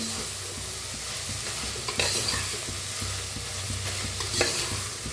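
Turmeric and spices roast in a pan for a sprouted matki masale bhat, a continuous soft sizzle with occasional scraping stirs, close and steady with no talking.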